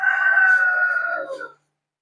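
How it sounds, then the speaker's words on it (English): A rooster gives one loud, close cock-a-doodle-doo, a sustained crow that tapers off after about a second and a half, followed by silence. "Just fucking chicken."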